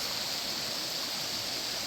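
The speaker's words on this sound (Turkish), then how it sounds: "Bir köprünün altından gidiyor dere." A stream flows beneath a bridge near a thermal hotel in the Kaz Mountains, giving a continuous, even rush of water with no pauses or voices over it.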